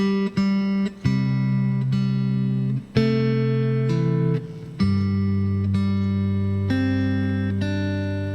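A guitar plays a slow chord melody, each chord struck and left ringing with clear sustained notes, a few seconds apart, no talking.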